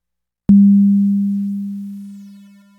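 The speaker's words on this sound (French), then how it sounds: "On perçoit tout de suite une espèce de distorsion curieuse qui d'ailleurs change de timbre au gré de l'évolution du fondu de l'amplitude" A pure low sine tone starts abruptly and slowly fades out, with a faint grainy quantization distortion creeping in and shifting in timbre as the amplitude falls, alone and steady.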